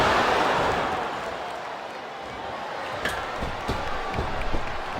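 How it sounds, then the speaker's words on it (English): Arena crowd noise from the WWE SmackDown vs RAW 2007 video game during an Elimination Chamber match, a steady roaring wash of audience sound with a few sharp impacts near the end. "I'm not sure I agree with what the crowd is chanting, JR, but I guess it's their right."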